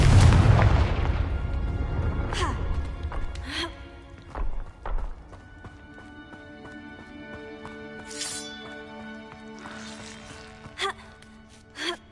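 A Confringo blasting spell going off in Hogwarts Legacy on PS5, opening with a deep, loud booming explosion that rumbles away, followed by scattered smaller pops and bursts of game sound.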